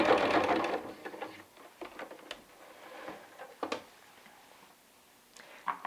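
A sewing machine stitches a fabric pillowcase tube, a quick burst of running stitches at the start followed by fainter intermittent clicks and small handling sounds, close and quiet.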